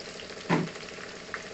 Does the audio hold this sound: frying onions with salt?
yes